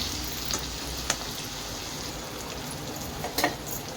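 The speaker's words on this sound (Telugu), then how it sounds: "ఉల్లిపాయ అనేది గోల్డెన్ కలర్ వచ్చే వరకు ఫ్రై చేసుకోవాలి." Onions frying in a pan for chicken gravy, giving a steady, even sizzle close by with a few faint clicks and light stirring taps, and no voices.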